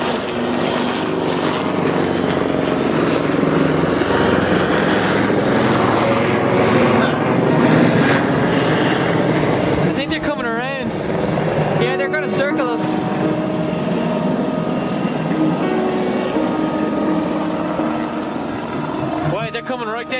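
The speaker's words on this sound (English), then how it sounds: "Hey, we got a helicopter, Drake!" Helicopter flying low over the water near an anchored sailboat, a loud steady rotor and engine roar throughout with passing blade chop, while people shout and talk over it.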